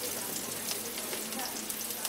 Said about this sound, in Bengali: পেঁয়াজটা কিছুটা ভাজা হয়ে যাওয়ার পরে এর মধ্যে আমি দিয়ে দিচ্ছি কুচানো কাঁচা লঙ্কাগুলো, দিচ্ছি এর মধ্যে একটু হলুদ গুঁড়ো